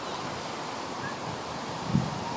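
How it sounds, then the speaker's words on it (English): Steady low wind rumble buffeting outdoors, a continuous broadband roar with one brief thump near the end. "It's very windy, as it has been kind of all week."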